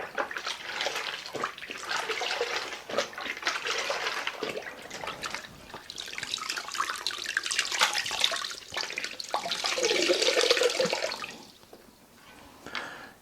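Sloshing and splashing water as a mop is rinsed out during floor cleaning with pine-scented Pinalen 2X concentrate, a continuous close watery wash that swells and fades over several seconds, with no talking.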